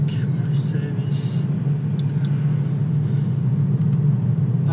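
An Audi A4 Quattro drives along, a steady low engine and road rumble heard from inside the cabin, with a person talking over it.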